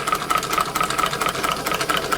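A large hot air engine fitted with a new burner runs steadily, giving a loud, close, rapid mechanical chuffing and clatter in an even rhythmic beat, with no voices.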